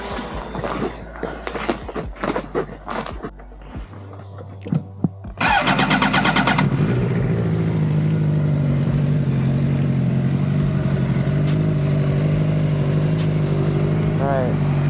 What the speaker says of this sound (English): I'm gonna start this thing up real quick, let it warm up,